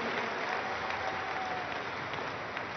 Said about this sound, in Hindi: एक बार जोरदार तालियों द्वारा इसका अभिनंदन आप सब लोग करें